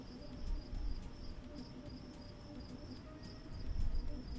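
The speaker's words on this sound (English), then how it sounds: "It is definitely the game doing the cricket noises." Cricket chirps in the Seraph's Last Stand video game, a faint, steady high-pitched trill in pulses over a low background rumble.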